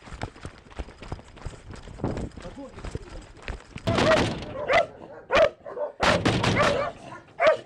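Dogs bark in a frontline town during a police evacuation, loud close barks scattered among footsteps and thuds while people talk over them.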